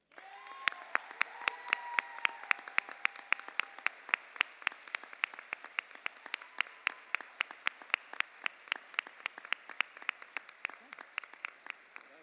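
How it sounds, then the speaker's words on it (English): Applause at a Harvard College class day dinner for an award recipient: a few voices at first, then clapping thinning into a regular beat of single close claps from one or two people. "Please join me in a very large round of applause for our second Ames Award recipient, Thomas Bassett."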